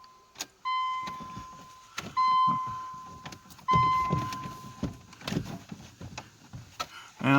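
A Ford Probe engine cranking without a working fuel pump, repeated short starter bursts with a whining tone, each a second or so long and separated by gaps, fairly close, followed by a few clunks and faint movement.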